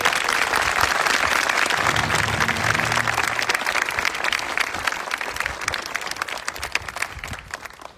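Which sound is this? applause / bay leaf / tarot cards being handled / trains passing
applause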